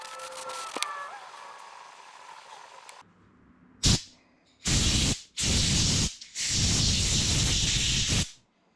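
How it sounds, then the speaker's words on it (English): An aerosol can of carburetor cleaner sprays into a tractor carburetor in bursts: one short puff, then three longer hissing blasts, loud and close, after a quieter stretch of faint clicking. "we'll just spray this out with a little carb cleaner"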